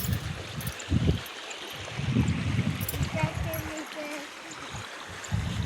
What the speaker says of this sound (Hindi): नहर में कितना तेज पानी चलत है